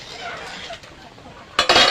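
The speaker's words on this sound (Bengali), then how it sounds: "তরকারিটা একটু নাড়িয়ে দেব।" Metal spoon scraping and clinking against a pot while stirring a taro and fish curry, a low bubbling bed giving way to a louder burst of scraping clatter at the end.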